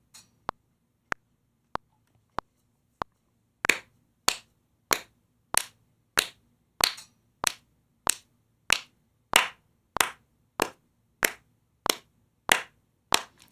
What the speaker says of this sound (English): I'm just gonna like clap on the beat.